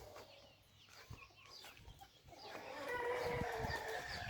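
Hens clucking softly around a yard, scattered calls growing busier toward the end, with faint background rustle and no talking.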